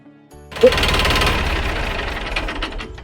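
A tractor engine starts up after a short quiet moment and then runs loudly and close by with a rough, knocking rumble.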